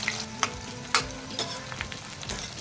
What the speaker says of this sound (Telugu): నెక్స్ట్ మిగిలిన కాకరకాయ ముక్కలతో కూడాను సేమ్ ఇలాగే బ్యాచెస్గా ఫ్రై చేసి తీసుకోవాలి